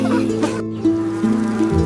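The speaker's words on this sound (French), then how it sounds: "Les abeilles bourdonnent tranquillement partout." Buzzing bees in a French children's song, a close, loud sustained drone with wavering pitch and a short gap near the middle.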